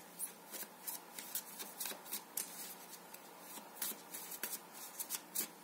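A deck of tarot cards is shuffled close by with rapid, repeated riffling and flicking strokes that go on steadily and quietly throughout, with no voice heard.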